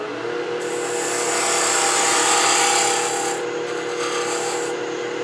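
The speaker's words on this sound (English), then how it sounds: "an alternative to that, of course, is a skew on its side, taking a peeling cut" A skew chisel laid on its side takes a peeling cut on spinning wood on a wood lathe, shaping a chuck tenon. It makes a steady, close rasping hiss for about five seconds over a faint motor hum.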